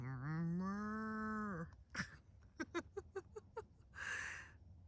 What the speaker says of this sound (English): I even heard a cow.